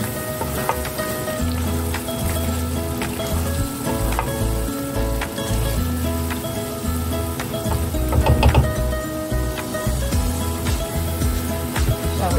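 Tomatoes cooking down in a pot for a spinach and mushroom soup, stirred as they sizzle and spit; a busy crackle with scraping clatters, close and continuous, no voices.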